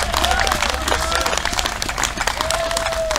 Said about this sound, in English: Ladies and gentlemen, a very great round of applause and thanks.